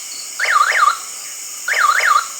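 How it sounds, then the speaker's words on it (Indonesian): The alarm of an Onassis T62 Pro smart door lock sounds after a wrong PIN, two loud warbling electronic siren bursts repeating close by. "Selanjutnya alarm akan bunyi yang bagi saya suaranya udah cukup lah ya."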